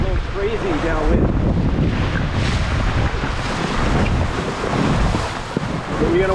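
Strong wind roars over the microphone while sailing a Tornado catamaran, with waves and water rushing steadily beneath, loud and continuous throughout.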